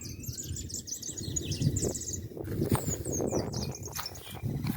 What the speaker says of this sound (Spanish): Tordos, chingolos,